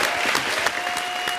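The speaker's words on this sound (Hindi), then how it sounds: "एक बार जोरदार तालियां।" Loud, dense applause from a studio audience on the Indian TV show Comedy Circus, continuous and close, with a faint steady tone running underneath.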